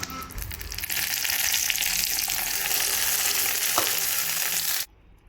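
Hot tempering, taken off the flame, is poured into a coconut-free chutney for dosa and hisses in a loud continuous sizzle that lasts several seconds before cutting off abruptly.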